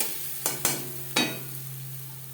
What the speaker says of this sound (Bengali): ফোড়নের সাথে মশলা বেশ ভালো করে মিক্সড করে দেবো